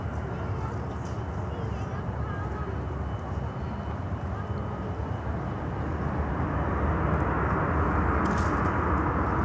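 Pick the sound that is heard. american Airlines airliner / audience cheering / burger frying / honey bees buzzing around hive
american Airlines airliner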